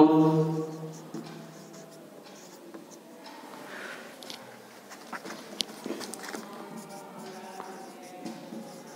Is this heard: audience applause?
no